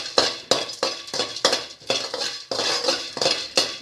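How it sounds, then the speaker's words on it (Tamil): Dry ginger and black pepper being dry roasted in a pan, with a sharp, irregular series of metallic scrapes and clinks from a spoon stirring against the pan, close and fairly quiet, with no talking. "அடுத்து சுக்கும் மிளகும் போட்டு வறுக்க போகிறோம்"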